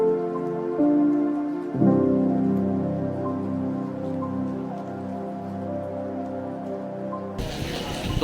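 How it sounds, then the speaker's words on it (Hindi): Heavy rain falls steadily as an even, dense wash that continues throughout, with a low hum underneath and a sudden burst of harsher noise near the end. "बारिश बहुत तेज हो रही है"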